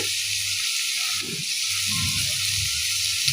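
Onion, tomato and salt for prawn masala sizzle in a pan while being stirred, a constant frying hiss broken by a few soft scraping strokes of the spoon.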